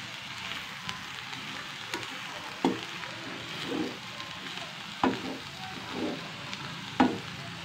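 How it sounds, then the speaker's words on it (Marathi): A coriander mixture with salt being stirred in a pan for kothimbir vadi, a steady frying sizzle with a few distinct scraping strokes spaced a second or two apart. "आता हे एकत्र चांगलं मिक्स करून घ्यावं।"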